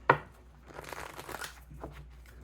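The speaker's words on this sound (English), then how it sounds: "One more shuffle." Tarot cards being shuffled: a sharp crisp snap at the start, then a stretch of soft, papery riffling and rustling at close range, with no talking.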